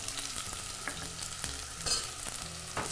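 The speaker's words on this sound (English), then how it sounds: "we're going to drop these right in this oil. I'm just going to start to get just a little bit of caramelization on the red onions" Red onion pieces sizzle and fry steadily in hot oil in a pan, a continuous crackling hiss with light stirring scrapes, moderately close and with no talking.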